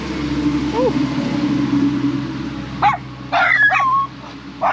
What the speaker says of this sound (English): She's got a couple dogs.